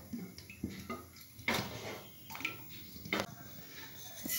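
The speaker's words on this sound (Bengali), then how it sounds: "আগে প্রথম এটা একটু জল দিলাম" Water poured into a pan in a home kitchen as the start of sugar syrup for Bengali malpua, heard as a few short splashes and clinks of the pan, moderately close with background noise.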